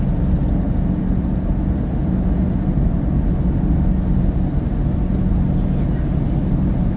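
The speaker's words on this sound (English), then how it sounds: "I don't know why my car sounds so windy right now." Steady low roar of wind and road rumble inside a moving car, loud and continuous with no voices.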